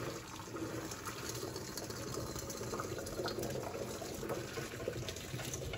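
Pasta water is poured from a pot into a strainer in a kitchen, making a continuous, fairly faint splashing gush that runs steadily throughout.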